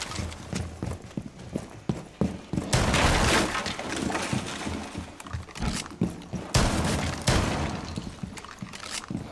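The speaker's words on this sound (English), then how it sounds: "Please don't shoot all those walls." Gunfire tears through destructible walls in Rainbow Six Siege on the Chalet map: rapid, loud bursts of shots with cracking, shattering debris, repeated in dense clusters.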